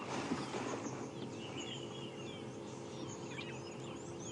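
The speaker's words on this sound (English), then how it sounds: "You'll hear the sound of birds alarming." Birds giving alarm calls at a watering hole on an African safari drive, short faint chirps scattered over a quiet, hissing background with no talking.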